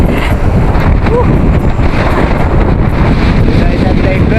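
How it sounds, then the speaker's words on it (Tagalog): Steady wind roars across an open microphone during a year-end group motorcycle ride on Diversion Road in Tomas, Batangas, heading to Atimonan; the buffeting rumble is loud and continuous throughout. "Hangin."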